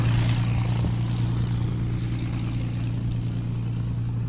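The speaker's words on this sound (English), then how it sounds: "Clive Denny in the Hurricane 12 taxiing out." Hawker Hurricane propeller aircraft taxiing out at an airshow, its engine a steady, loud, low droning hum that holds at an even pitch throughout, with no voices.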